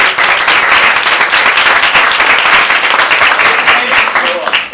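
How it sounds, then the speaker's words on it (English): An improv theater audience gives loud, sustained applause as volunteers come up on stage, dense clapping filling the room with faint voices mixed in. "Give a round of applause"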